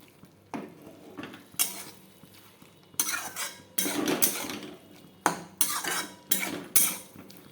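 A metal spoon scrapes and knocks against a pan in repeated short strokes while prawn, potol and potato curry is stirred and fried, with a faint sizzle between strokes.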